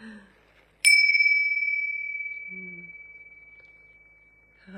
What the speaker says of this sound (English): I'm going to just clear the energy and ring the bells